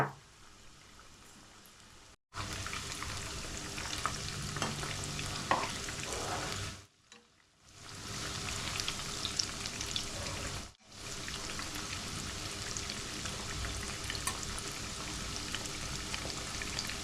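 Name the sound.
chicken 65 pieces frying and sizzling in oil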